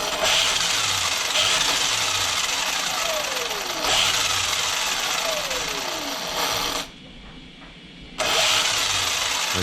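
Arrma Limitless RC car with MMX8S ESC and 1515 motor revving under throttle, a loud, close, sustained high-pitched electric whine with rising sweeps, cutting out briefly before surging back.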